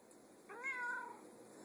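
A single close, clear meow from a pet cat, rising then falling over about half a second against a quiet room background, with no talking.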